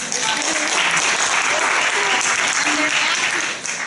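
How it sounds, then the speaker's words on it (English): A crowd applauds steadily, a dense wash of clapping at an even level that fades slightly at the end. "And I want to give them a round of applause."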